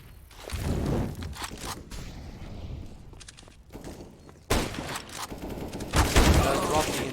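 Gunfire from a CS:GO match, with an incendiary thrown and a player missing shots while the B bomb site is attacked; bursts of in-game shots come in several loud clusters over background game noise.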